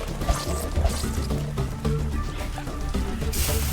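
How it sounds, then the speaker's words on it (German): Rain in the game Primal Planet falls as a steady liquid patter and trickle, continuous and fairly close, with dripping textures throughout and no voices. "Habe ich nicht bedacht, ja, dass es ja hier regnet."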